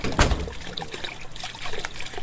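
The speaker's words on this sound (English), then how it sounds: "Hey, why is water running?" A faucet runs in the video game The Crooked Man, giving a short, fairly loud trickle of flowing water with a brief splash near the start.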